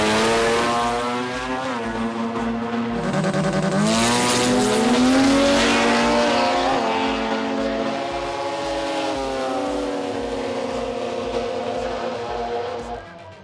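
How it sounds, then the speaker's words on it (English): A Rotor Geek RX-3 race car with a rotary engine runs at a drag racing event, the Sydney Jamboree: a loud, close, sustained engine roar with pitch sweeps as it revs and shifts, slowly fading toward the end. "Daniel Rogier in the Rotor Geek RX-3 was the man to beat"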